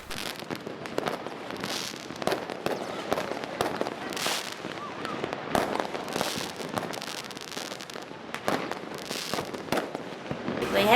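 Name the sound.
fireworks and firecrackers at New Year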